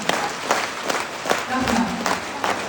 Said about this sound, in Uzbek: o'zingizga bitta qarsak bo'lsin